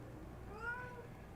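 A cat gives a single short, rising-then-falling meow at moderate distance, soft against a low background hum, with no talking.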